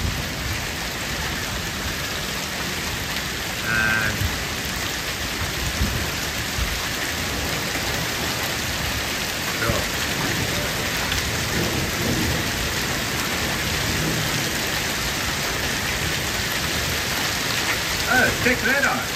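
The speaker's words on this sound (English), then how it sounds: "I don't know if you can see this, but proper hail." Hail and heavy rain pelt down during a storm on a trek between Viterbo and Vetralla in Italy, a dense continuous patter with rumbling underneath and brief voices in the background.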